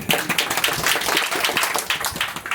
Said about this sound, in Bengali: একবার জোরে হাতে তালি দিন